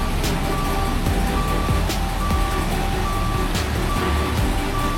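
Heavy equipment works nearby to scoop up landslide soil, its loud engine rumble running steadily while a reversing alarm beeps at regular intervals.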